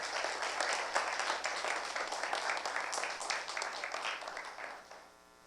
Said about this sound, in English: Please welcome Ambassador Goldberg with a big round of applause.